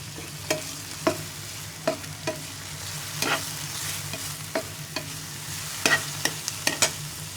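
Onion frying in a pan with soy sauce, a soft continuous sizzle broken by sharp clicks and scrapes of a stirring utensil against the pan, with no talking.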